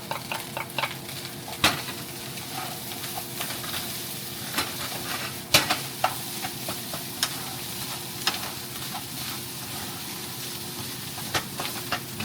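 Meat stir-fried and tossed with fried rice in a hot pan, with a continuous sizzle and hiss punctuated by sharp metallic clanks of the spatula against the pan, close and alone without speech.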